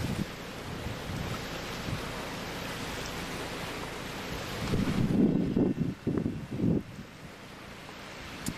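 Wind at about 10 mph rushes past a LYNX vertical-axis wind turbine as a steady broadband hiss and buffeting, swelling into stronger gusts around the middle before settling again.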